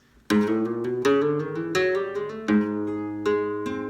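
A flamenco guitar plays a short repeating soleá falseta, sharp plucked notes and strummed chords in a clear rhythmic pattern, close and alone.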